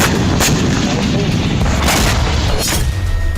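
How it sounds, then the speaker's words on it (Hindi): Mortar fire from Hamas fighters positioned in a tunnel, aimed at Israeli troops: a series of heavy, booming blasts about half a second to a second apart, loud and rumbling, with no talk over them. "हमास के लड़ाके सुरंग में मौजूद हैं, वहीं से इजरायली सेना पर मोर्टार से हमले कर रहे हैं।"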